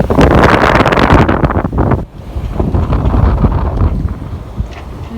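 Strong 17 to 20 knot wind at sea aboard a sailboat, a loud, constant roar of wind buffeting the microphone over rushing water, with one brief lull before the gusting resumes.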